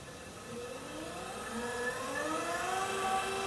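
A Laguna Revo 1524 lathe motor starts in low gear and spins up, a steady whir whose pitched tones rise and sweep upward over a few seconds as it gains speed, moderately loud and heard alone.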